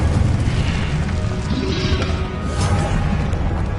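In Hogwarts Legacy, an Incendio fire spell gives a loud whooshing, booming burst of flame. A roaring texture carries on steadily for the whole few seconds.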